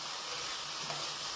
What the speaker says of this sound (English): I'm currently sauteing the chicken up in chili powder, garlic powder, a little bit of, quite a bit of Parmesan and cumin